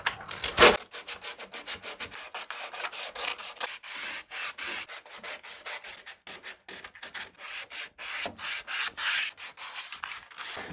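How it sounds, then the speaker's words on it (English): Hand sanding on the wooden hull of a CLC Passagemaker dinghy, smoothing the finished fillets: quick rhythmic back-and-forth rasping strokes, close and continuous, with brief pauses between bursts. "it's mostly comes down to just finishing off with some hand sanding"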